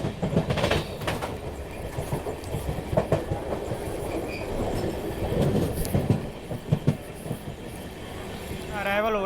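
The Delhi–Gaya Amrit Bharat Express departs and runs along the rails, producing steady rhythmic clickety-clack and rumble heard from onboard, with some background voices and a rising squeal at the end.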